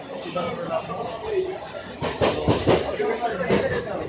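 Inside a moving, fairly empty passenger train, a rumbling rolling noise with rhythmic clatter and rattling, heard close under people talking nearby.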